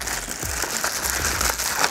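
A plastic bag crinkles and rustles up close in irregular bursts as it is handled while unpacking a parcel from AliExpress, with no talking.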